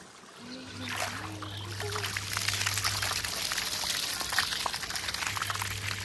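Water running steadily into a drum on a rooftop, a continuous splashing gush that builds and holds, close by, with a low steady hum beneath it.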